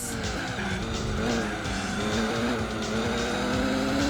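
Race cars in the Gran Turismo 4 video game roar at high revs with a continuous, loud engine drone and screeching tires under braking, dense and unbroken throughout.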